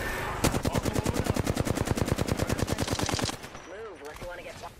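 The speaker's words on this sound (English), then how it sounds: "I am taking fire." Rapid automatic gunfire in Apex Legends, a close, loud and steady burst of evenly spaced shots that lasts about three seconds and then stops, followed by quieter game sounds with a short voice line.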